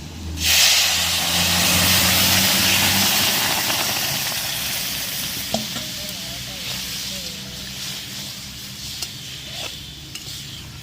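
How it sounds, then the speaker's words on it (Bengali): Black gram dal poured into hot tempering with chopped ginger bursts into a loud hissing sizzle that slowly fades to a gentle bubbling, with faint background sounds. "ফোড়নটা ভাজা হয়ে গেছে আমি এবার ডালটা ঢেলে দেবো"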